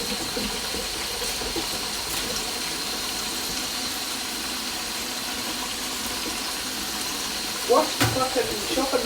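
Tap water runs steadily while a chopping board is washed in a home kitchen, a constant rushing hiss with a brief clatter of dishes near the end.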